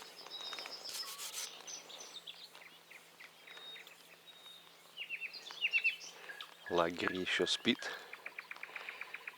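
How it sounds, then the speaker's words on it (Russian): Nightingales sing at dawn around a foggy campsite, with faint chirps and warbled phrases, some insect-like trilling, and someone speaking quietly over the birdsong. "Соловьи поют."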